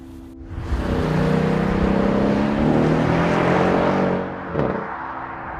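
A new Mercedes E63 AMG with added power and four-wheel drive accelerates hard, its engine swelling into a loud, sustained rising roar, then drops off with a sharp crackle before settling back to a low idle rumble.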